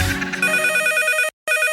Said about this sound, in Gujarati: ફોન આવ્યો કાકા, ફોન આવ્યો.